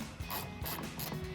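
A ratchet clicks steadily while turning small 8mm socket bolts on a cold air intake for a Silverado 1500, the quick pawl ticks repeating close and clear with no talk over them.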